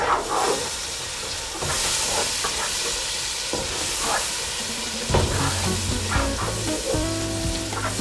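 Spiced lamb kofte curry mixture being stirred in a hot pan, a steady frying hiss with bursts of sizzle and scraping utensil strokes, close and fairly loud with no talking.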